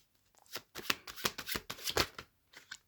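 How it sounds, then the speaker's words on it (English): Tarot cards being shuffled by hand in a few quick riffling bursts with short pauses, close and fairly soft, with no speech. "Too many cards. One more card, please."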